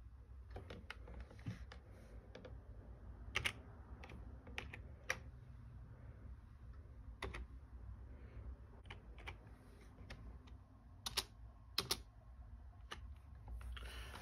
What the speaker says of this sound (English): instead of using this keyboard, I'm going to use this keyboard and show y'all how it goes